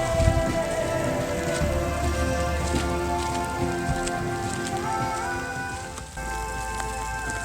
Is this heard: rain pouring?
yes